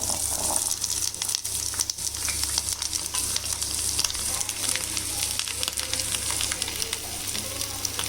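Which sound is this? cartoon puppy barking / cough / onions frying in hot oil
onions frying in hot oil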